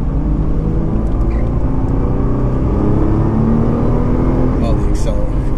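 Turbocharged engine of a 2018 Nissan GT-R Track Edition rumbles loudly and continuously on a racetrack, with occasional higher whines and faint voices underneath.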